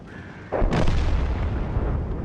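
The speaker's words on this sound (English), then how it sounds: "Shot away." Tank gun firing in World of Tanks, a single loud booming shot that hits sharply and then rolls out into a long rumbling decay, with no voices.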